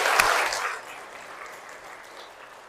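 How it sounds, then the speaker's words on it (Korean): A church audience breaks into brief applause, loudest at the start and then thinning out into scattered fading claps. "박수 축하드려요."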